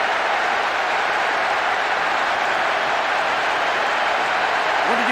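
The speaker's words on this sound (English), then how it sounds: "most of the crowd not happy about that goal" A stadium crowd roars in the PES6 football video game, a dense, steady wash of noise that holds at a constant loud level throughout.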